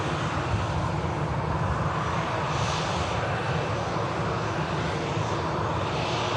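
A Saudi airliner on landing approach at an airport, heard as a steady, moderately distant engine roar with a constant broadband rush and no change in level.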